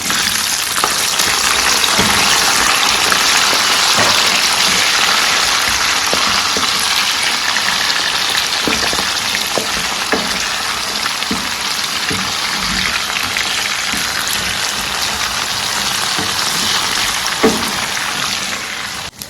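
Onions dropped into palm oil for a Ghanaian palm oil stew with dry herrings, producing a loud, steady, rain-like frying hiss that continues evenly with scattered small pops.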